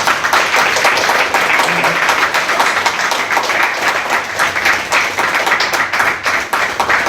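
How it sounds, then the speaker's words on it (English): Enthusiastic audience applause for panelists after an AI panel event, a thick sustained roar of many hands clapping with crisp individual claps, loud and close for the whole stretch, faint voices underneath. "Can we have a big round of applause for our panelists"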